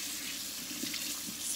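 Tap water runs steadily from a faucet into a sink, rinsing off a garbage disposal splash guard, a constant close splashing hiss with small bursts of spatter as the rubber guard is moved under the stream.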